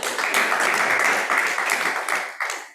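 A seminar group claps together in a brief, fairly loud burst of dense applause that tapers off near the end, heard alone without voices.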